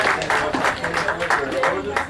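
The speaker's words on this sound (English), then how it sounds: "Everybody, let's give them a round of applause" Guests at a surprise birthday party give a round of applause, a short burst of clapping from a small group close by with some voices mixed in.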